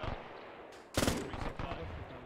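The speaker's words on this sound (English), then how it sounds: "Shots close." Gunfire in Arma 3, a sharp loud burst of shots close by after a quieter start, with a faint voice underneath.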